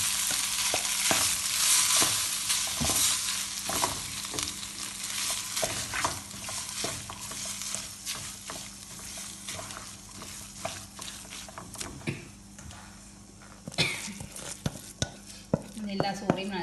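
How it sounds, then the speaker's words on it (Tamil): Cooked rice being stirred into a tempering in a pan, with the stove switched off, for curd rice. Steady scraping and stirring with a soft sizzle runs throughout, punctuated by occasional louder clinks and knocks of the spoon against the pan. "இது சோறை இதுக்குள்ளே போட்டு கொஞ்சம் கொஞ்சமாக கிளறணும்"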